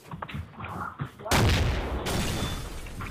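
Low rumbling and voice-like sounds give way to a sudden loud burst of gunfire and explosions in the video game Garry's Mod, which keeps rattling and booming to the end.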